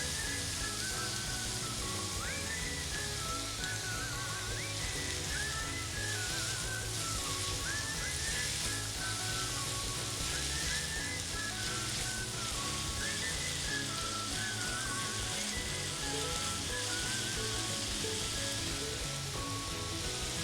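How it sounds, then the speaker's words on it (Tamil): Vegetables sauté in oil with a continuous, even, faint sizzle lasting the whole stretch, soft and close, with no voices and a faint tonal hum in the background. "எண்ணெயுடைய ஸ்மெல் இந்த வெஜிடபிள்ஸில் பிடிக்கிற வரைக்கும் சாட்டே பண்ணும்"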